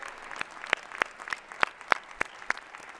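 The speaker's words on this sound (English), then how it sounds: "Please, another round of applause for Brian Gatewood and his beautiful mother." At a Martin Luther King Jr. birthday celebration, a handful of people clap sparsely in distinct, separate claps, roughly three per second, fairly near and moderately loud over a quiet room.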